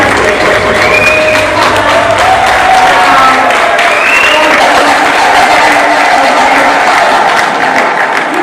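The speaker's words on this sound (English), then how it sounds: "That's the one where you cheer." University audience at a Kenyan ceremony cheering and applauding continuously, a loud steady wash of claps and crowd noise with some voices rising above it.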